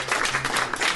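Applause from a live audience at a tabletop Dungeons & Dragons session, a brief, dense burst of clapping lasting about a second and filling the room at steady loudness.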